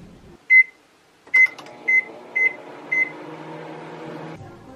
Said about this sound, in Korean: 전자레인지에 2분만 돌리면 된대